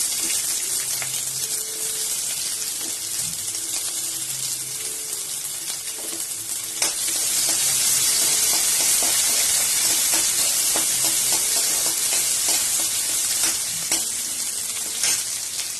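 Onion frying in oil with mustard seeds and asafoetida for a potato and rajma dal, a loud steady sizzle with stirring that grows fuller partway through, with no talk.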